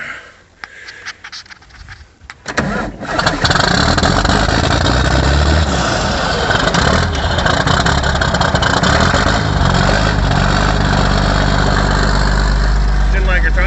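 An old vehicle's engine idling after a throttle adjustment near a shop, a loud, steady rumbling drone that settles in after a few seconds of quieter shuffling and knocks, with no talk over it.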